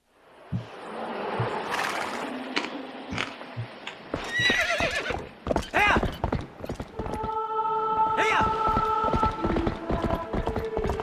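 Rhythmic clip-clopping hooves and a horse's whinny sound within a musical track, with voices talking over parts of it.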